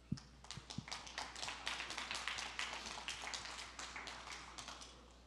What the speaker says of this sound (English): Can we have a big round of applause for our next conversation?